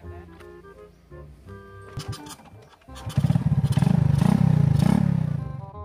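A motorcycle taxi (ojek) engine starts quiet, with clatter and faint talk, then revs up loud and close in a pulsing roar during the second half.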